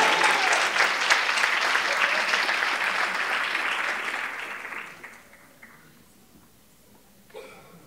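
Audience at a panel event applauding a guest, dense sustained clapping for about five seconds that fades out into near silence, with a brief faint sound near the end.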